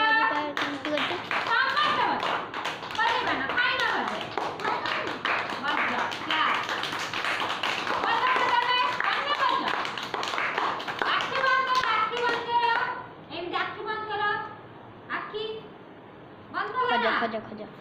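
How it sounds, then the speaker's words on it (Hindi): Children clap their hands during a classroom game, with repeated claps and taps running under near-constant kids' chatter and an adult voice, clearer claps standing out in the last few seconds. "सब ताली बजाई"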